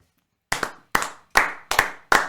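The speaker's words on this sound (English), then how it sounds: "That and synchronized clap was just for you" Two podcast hosts clap in unison, five sharp double-hit claps in a steady rhythm, close and loud, with no talk over them.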